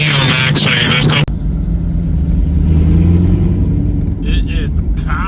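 Car engine revving during a night road trip in Arizona, a steady loud low rumble with a rising rev, preceded by people talking briefly at the start.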